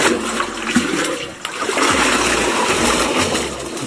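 Water splashing and trickling as it is poured while fetching water from a drum on a farm with no well, a steady nearby stream with splattering that continues throughout.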